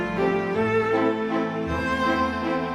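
A 2017 song built with Kontakt Factory Library instruments, a steady sampled orchestral texture of sustained string and pad chords moving through changes at moderate volume, with no voices.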